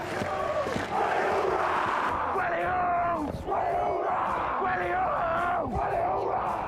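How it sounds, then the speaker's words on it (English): A large crowd cheers and yells wildly at a sports event, dense and loud throughout, with rising whoops and bellowing voices layered over a constant roar. "crowd goes wild"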